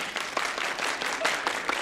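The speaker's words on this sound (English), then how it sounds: "Everybody clap your hands." An audience claps at a comedy show, a dense, steady burst of applause from a crowd lasting a couple of seconds, moderately loud and without clear speech.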